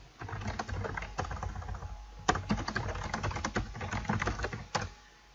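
Brisk bursts of computer keyboard typing while C++ code is entered, close and clear, with uneven clusters of keystrokes and brief pauses between them.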